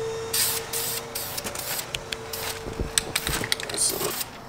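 A light primer coat is sprayed onto brake calipers on an Evo 8. Short hissing aerosol bursts sound up close, with a steady faint hum and light clicks and taps underneath.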